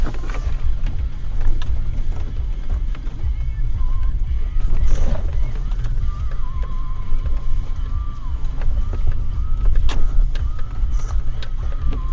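An off-road truck slides sideways along a trail on a fall crawl event, its engine rumbling low and steady under heavy wind buffeting for the whole stretch, with faint occasional voices.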